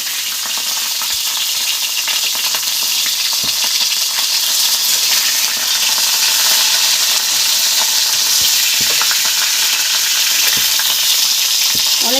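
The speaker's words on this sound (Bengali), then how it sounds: "কপিটা ভাজা হয়ে গেছে, তুলে নিচ্ছি।" Cauliflower fries in a pan for a Bengali fish curry, giving a constant, close, loud sizzle with occasional light clicks as it is stirred.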